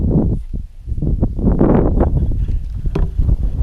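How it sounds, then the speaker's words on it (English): Wind gusts across a small creek during kayak fishing, hitting the microphone as loud, rumbling buffets that rise and fall over a few seconds. "The wind's blowing again."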